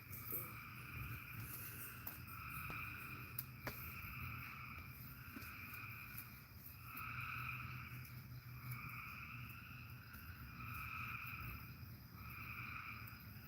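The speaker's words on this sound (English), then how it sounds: "Frogs are loud." Frogs call at night in steady, overlapping pulsed trills that repeat in regular bursts, mixed with insect-like chirring and a low constant hum, fairly loud and continuous with no voices.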